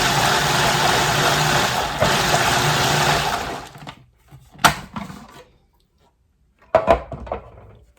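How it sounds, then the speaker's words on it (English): A blender pulses canned tomatoes into restaurant-style salsa, a loud dense whir running steadily for about four seconds, then stopping, followed by a couple of brief knocks and clatters. "we're going to pulse it all till it's blended"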